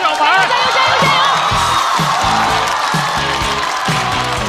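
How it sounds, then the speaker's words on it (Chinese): A stand-up comedy show audience cheers and claps as a comedian is introduced, a dense crowd roar with whoops filling the whole stretch while an announcer's amplified voice carries over it. "这支团队要派出来的第2位演员，掌声欢迎樊晓凡。"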